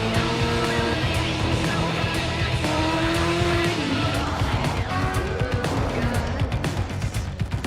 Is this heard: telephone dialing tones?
no